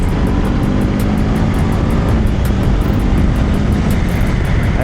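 A BMW F450 GS parallel-twin motorcycle engine on the move, a loud, steady drone blended with rushing wind noise throughout, with no talking.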